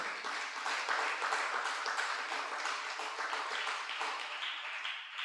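Steady applause from a church congregation, a dense wash of clapping that holds at an even level for several seconds.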